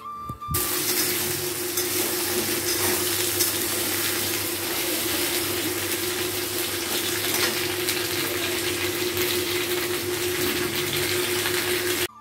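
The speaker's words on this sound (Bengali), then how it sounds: "একটু ভালো করে তেল দিয়ে কাঁকরোল ভাজা করব" Teasel gourd (kakrol) frying in plenty of oil, a dense continuous sizzling hiss that stays loud and even from just after the start to the end, with a steady low hum beneath.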